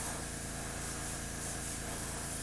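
An airbrush mists paint onto Warhammer Warcry terrain with a steady, continuous close-up hiss that holds even throughout.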